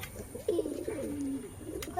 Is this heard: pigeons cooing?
yes